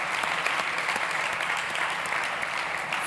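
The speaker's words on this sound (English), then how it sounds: "can we please have a big round of applause for our amazing VIP judges in the front row?" Conference audience at a startup summit stage applauding VIP judges in the front row, a full, even burst of many hands clapping steadily throughout, fairly close and without speech over it.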